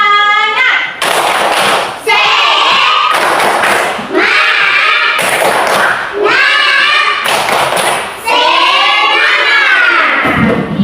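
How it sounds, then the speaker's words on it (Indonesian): A classroom of pupils performs a rhythmic spirit clap, loud, tight bursts of clapping in a fixed pattern with short pauses between phrases and children's voices chanting along close by. "Ayo, tepuk semangat."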